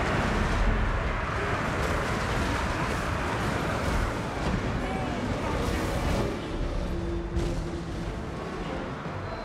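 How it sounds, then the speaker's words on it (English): Rumbling artillery bombardment in a Total War battle, a dense, loud wash of distant booms and battlefield din that stays steady throughout, with no clear single shots standing out. "A bombardment started"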